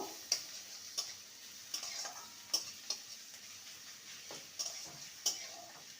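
Ginger-garlic paste fries with onions in a pan under a faint, low sizzle, while a spatula taps and scrapes against the pan in sharp, irregular clicks about once a second.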